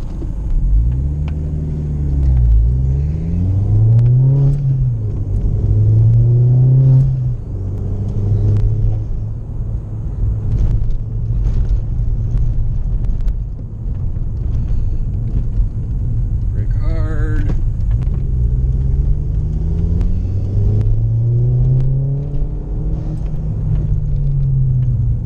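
A VW Mk4 GLi drives along a bumpy road with a loud, continuous low engine and road rumble, the engine note rising and falling as it shifts and accelerates.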